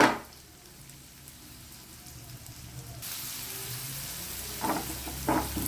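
Tomatoes cooking in a pan, a soft steady sizzle and bubbling, quiet at first and then a little louder, with a couple of light stirring scrapes near the end.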